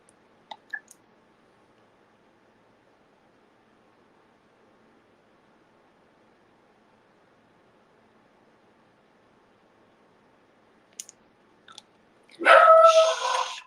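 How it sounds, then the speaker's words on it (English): A pet dog lets out a short, loud bark at the end of a mostly quiet indoor stretch, after a few faint clicks and taps earlier on. "Oh my gosh, my dog keeps saying that and going off."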